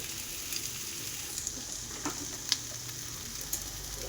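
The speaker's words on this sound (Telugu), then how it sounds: "మంచిగా ఫ్రై అవుతుంది ఆయిల్ కూడా పైకి తేలుతుంది" Taro frying in oil with ginger-garlic paste in a pressure cooker, a faint continuous sizzle with occasional small pops and light stirring clicks, quiet and without talk.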